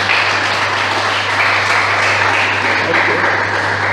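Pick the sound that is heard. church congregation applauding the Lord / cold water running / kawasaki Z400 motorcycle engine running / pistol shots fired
church congregation applauding the Lord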